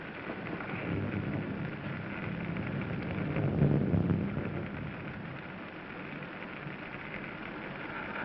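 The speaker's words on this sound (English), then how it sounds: "It's raining." Steady rain falls with a soft rumble of thunder swelling in the middle, a continuous wash of noise heard alone at night.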